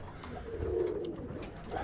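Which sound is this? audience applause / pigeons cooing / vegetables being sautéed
pigeons cooing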